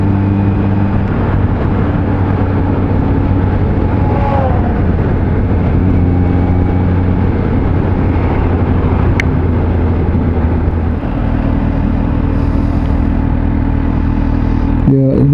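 A 2020 Kawasaki Z H2 hyper-naked motorcycle cruising steadily, its engine producing a continuous loud drone with a low harmonic hum and wind rush throughout, the pitch holding even with slight shifts near the end.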